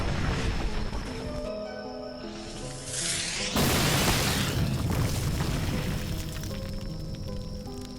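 An Omnitrix streaks down from outer space and slams into the Earth like a meteor in a Ben 10 cartoon, a loud roaring crash with a sudden burst midway, set against a continuous rumbling score.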